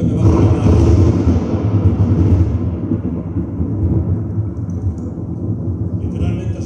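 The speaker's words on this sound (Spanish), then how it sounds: "El rayo y todo lo demás es el retumbo del trueno que baja la mar." Deep thunder rolling through the mountains at Goriz above the Ordesa canyon, a loud sustained low rumble that swells, fades slightly and continues steadily with no clear sharp crack.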